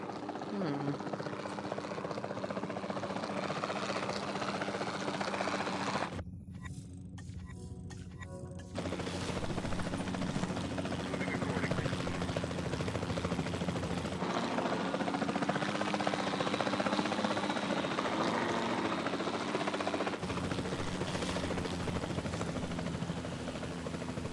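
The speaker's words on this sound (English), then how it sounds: "Then the sensible thing is to take a capture team helicopter." A capture team helicopter from the video game Jurassic World Evolution 2 gives a steady, loud rotor and engine drone throughout, dipping briefly once, with some talk over it.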